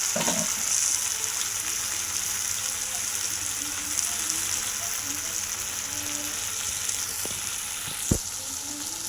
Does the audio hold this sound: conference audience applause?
no